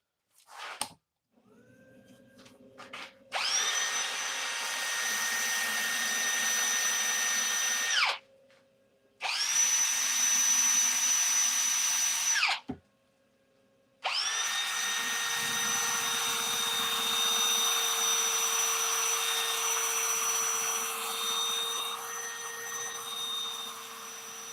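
A wood lathe spins a turned piece while it is sanded at 120 grit. A steady motor whine with a bright, rising hiss of abrasive runs in three long passes, separated by brief pauses where the machine spins down.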